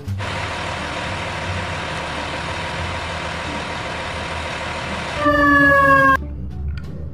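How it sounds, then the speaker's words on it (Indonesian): A fire truck siren gives a short, loud, rising wail near the end, following a steady rumbling hum of traffic or an idling engine. "Wah, kita mendapatkan pemadam kebakaran."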